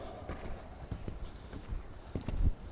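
Horse hooves clip-clopping on the ground of a riding arena during a schooling session, a regular rhythmic series of close, distinct footfalls over a faint background.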